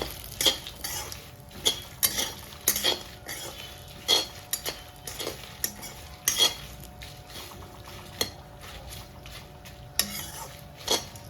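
Curry leaves, chennangi leaves and drumstick leaves dry-roasting in a pan for spice powder, stirred with a utensil that clinks and scrapes against the metal in irregular bursts over a soft, steady background, with no voices.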